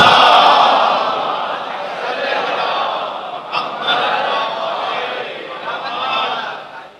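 An audience at a religious lecture recites salawat together. Many voices chant in unison as a loud, sustained collective murmur with slight swells and dips across several seconds.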